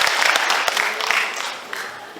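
An audience at a Korean lawmaker's constituency report meeting in Gwangsan, Gwangju, gives a short round of applause. Close, fairly loud clapping with a few distinct sharp claps tapers off within about two seconds.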